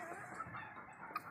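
Chickens and roosters, about fifty hens kept with breeding cocks on a farm, give a continuous faint murmur of clucking with brief louder calls, heard from a distance.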